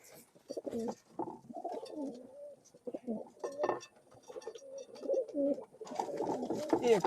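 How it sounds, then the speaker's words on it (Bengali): Old-bloodline pigeons in a loft in Khulna, Bangladesh, coo in repeated low, throaty rolls close by. The calls come in several bursts across the stretch, with a voice occasionally speaking among them. "এই একটা কবুতর দেখায় আপনাদের"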